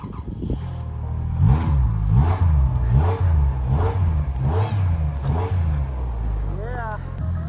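Volkswagen GTI stuck in blizzard snow, engine revving in repeated rising surges as the wheels spin, about six rhythmic bursts, close and loud, with voices talking over it.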